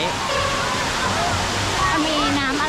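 A waterfall in Kanchanaburi, Thailand, rushes in a loud, steady roar while people talk over it.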